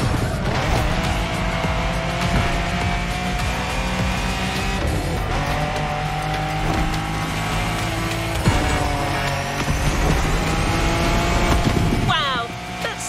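Race car in The Crew Motorfest racing game on PS5, engine roaring steadily with shifting pitch, repeated tire squeals and skids through corners, loud and continuous across the whole stretch, with a voice speaking over it.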